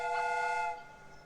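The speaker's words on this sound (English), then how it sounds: "The steam whistle is ready to be used" A steam train whistle in Sherlock Holmes: Crimes and Punishments blows one loud, steady, tonal note, close and clear, lasting under a second before cutting off into quiet background.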